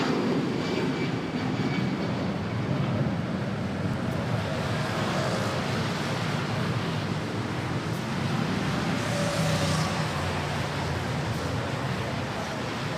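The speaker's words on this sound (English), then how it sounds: "We have this Philippine Airlines to Puerto Princesa A320." A Philippine Airlines Airbus A320 bound for Puerto Princesa at Manila Airport, heard as a broad, moderately loud jet roar that swells and rushes steadily, with wind noise mixed in.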